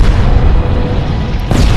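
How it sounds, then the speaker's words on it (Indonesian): A huge explosion tears through and collapses a building, a loud, sustained low rumble filling the whole clip, with a sharper burst near the end. "ledakan yang sangat besar melebihi tembakan meriam spiritus pun meruntuhkan seisi gedung"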